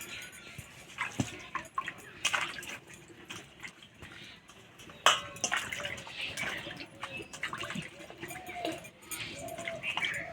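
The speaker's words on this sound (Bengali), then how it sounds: "এবার একটু ভালো করে ধুলেই খোসা উঠে যাবে" New potatoes washed and rubbed by hand in water, soft sloshing and splashing with small knocks, faint and close, with distant birds cooing in the background.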